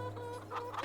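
Chickens in a Farming Simulator 22 coop clucking in a short burst, close and clear, with a low steady hum beneath and no voices.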